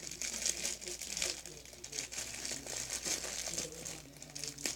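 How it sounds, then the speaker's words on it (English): A squishy toy being pulled out of crinkly plastic packaging, a continuous close crinkling and rustling of plastic with small crackles throughout, no speech. "I'll take this out of the packaging. I know some of you guys don't like the noise."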